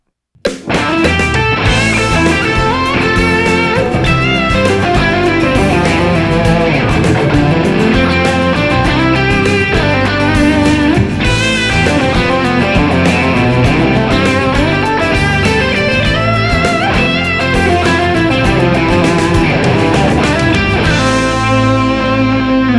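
Distorted electric guitar plays a busy, improvised solo over a full backing band with drums, loud and continuous for the whole stretch.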